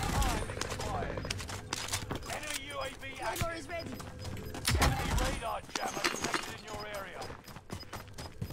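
Dense rapid gunfire and explosions from a Call of Duty match, with bursts of shots and impacts, while people talk over the game sounds.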